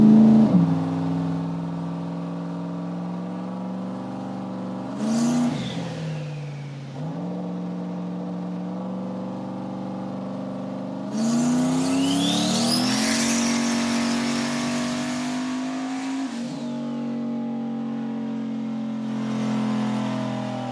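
A turbocharged LS-swapped Mustang on a dyno making a boosted pull, the engine droning and climbing in pitch in long sweeps, dipping briefly between gears, with a loud steady roar and turbo whistle over the top.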